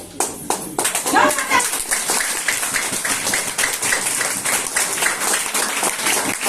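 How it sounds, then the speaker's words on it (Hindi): Loud crowd applause, dense continuous clapping from many hands filling the space with no pauses. "चलिए जोरदार ताली।"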